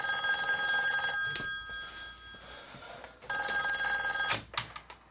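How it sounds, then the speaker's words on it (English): An old-style telephone rings in the video game Nostalgia Road, two long, bright electronic bell bursts separated by a quiet gap, loud and close, followed by a few faint clicks. "Oh great, the phone."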